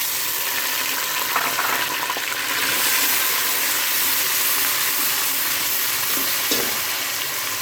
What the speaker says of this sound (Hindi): जब तक ब्राउन होती है, इसमें जाएगा लहसुन अदरक का पेस्ट।